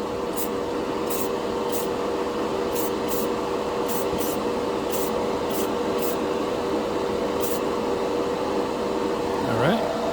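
Rust-Oleum matte clear enamel sprays from an aerosol can in one continuous, loud, close hiss that lasts about ten seconds without a break.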